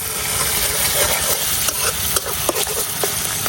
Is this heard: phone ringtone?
no